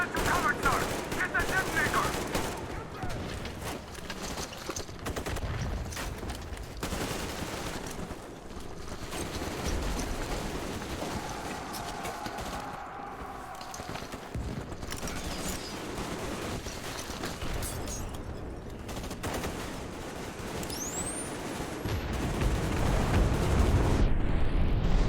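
Gunfire and rocket launcher explosions from the video game Metro Exodus, a continuous dense barrage of shots and booms with a voice talking over it throughout.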